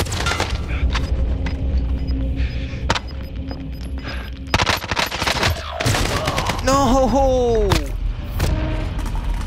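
Rapid gunfire in a video game battle royale match, sharp bursts of shots and clattering volleys close and loud, with brief game sounds and some talk mixed in.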